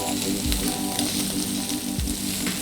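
Prawns fry in a hot pan with a steady, dense sizzle, while a few low scraping knocks come as they are turned over. There is no talking.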